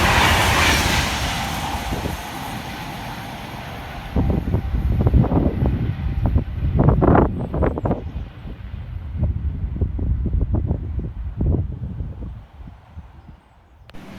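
A Class 390 passenger train on the West Coast line at Wolverton passes at speed, with a rushing roar and a rapid run of rail clicks and thumps from the wheels that fade away at the end.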